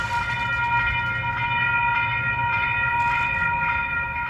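A train passes near a quiet-zone railroad crossing, a steady loud rumble of rolling cars with faint repeating clicks and a low continuous drone throughout, no horn sounded.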